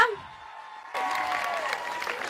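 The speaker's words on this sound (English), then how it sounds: "Can we have another round of applause for Priya?" A brief voice, then applause breaks out from a crowd at a wedding sangeet night and continues as steady, fairly loud clapping to the end.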